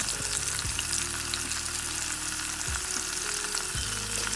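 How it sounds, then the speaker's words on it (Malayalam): Battered squid pieces fry in hot vegetable oil with a loud, dense, continuous sizzle, broken by a few soft knocks as the pieces are stirred in the pan. "ഓയിൽ നന്നായി ചൂടായാൽ വറുക്കാൻ തുടങ്ങാം."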